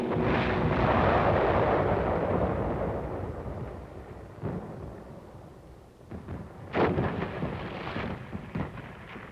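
Rocket ship and air force bombardment explosions in a World War II amphibious landing, a long rolling boom fading over several seconds, followed by sharper, closer blasts and crackling bursts.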